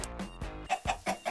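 Video game chickens in a chicken generator cluck in a quick run of short, clipped bursts, four sharp clucks near the end, close and clear with no talking.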